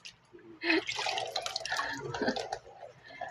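Water from a tap splashing as dishes are rinsed by hand while making dishwashing liquid at home, with irregular splashes and drips, fairly faint and close.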